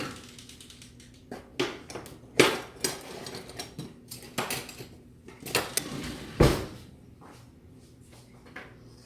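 Someone rummages through a home kitchen drawer for a spatula, producing a series of irregular clattering knocks and metallic rattles, some sharp and loud, in a busy burst of handling noise with no talk.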